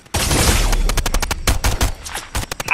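Rapid gunfire in the game Fortnite, a dense burst of loud sharp shots in quick succession, close and punchy, with a few separated shots trailing at the end.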